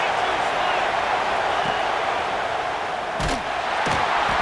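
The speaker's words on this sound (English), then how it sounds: "this crowd is turning it up a notch" Stadium crowd in EA Sports College Football 26 roaring as a steady, dense wall of cheering that swells slightly, with a few thumps and a commentator's voice over it.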